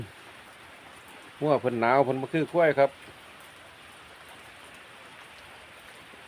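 Steady rain hisses over a cold countryside where cattle are kept, a soft even wash running throughout while someone speaks briefly near the middle.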